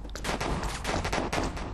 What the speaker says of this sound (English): you probably can't hear because of the gunfire